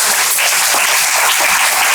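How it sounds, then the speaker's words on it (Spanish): A lecture audience applauds a professor after a talk on Dominican literature, giving dense, steady clapping from many hands that fills the room at close range with no voices. "un aplauso para el profesor"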